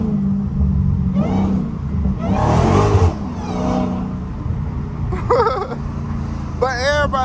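A Dodge Hellcat pulls away from a green light in city traffic, its engine revving and rumbling loudly through the whole stretch with a surge in the middle, while people talk inside the car over the noise.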